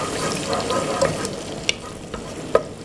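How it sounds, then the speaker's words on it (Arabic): Eggplant sautéing with garlic in a pan for mesaqaa, a soft steady sizzle with a few sharp clicks of stirring, close and fairly quiet, with no one talking. "وابتدي اشوح فيه كده."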